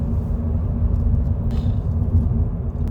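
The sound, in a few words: car driving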